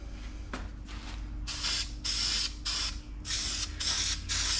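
Caliper paint is sprayed onto new exhaust manifolds for a 1963 Corvair in a run of about five short, close hissing bursts separated by brief pauses, with no talking.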